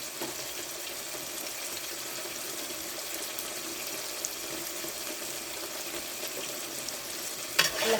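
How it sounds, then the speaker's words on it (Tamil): A South Indian boti curry of tomatoes and turmeric fries in a pan, giving a constant close sizzle with faint scraping as it is stirred and a louder clatter at the very end. "கிண்டி விட்டுக்குவோம்."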